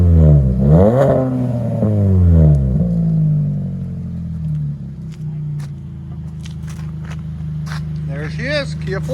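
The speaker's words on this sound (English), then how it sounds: "2016 Kia Forte, cherry bomb and new muffler delete and a stainless steel tip, 4-inch stainless steel tip." A 2016 Kia Forte with a cherry bomb, muffler delete and 4-inch stainless steel tip revs hard twice in quick, rising-and-falling blasts, then settles into a deep, rumbling idle while someone talks over it.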